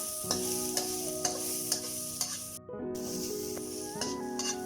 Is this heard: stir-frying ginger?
yes